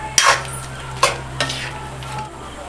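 Fried baby corn and mushroom being stirred into chilli gravy in a pan, with a few sharp scraping strokes over a steady sizzle, close and fairly loud, no talk.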